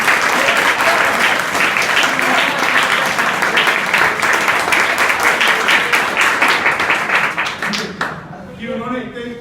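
Students at a school assembly applaud the principal with loud, dense, sustained clapping from a large group, close and continuous before it tapers and fades near the end.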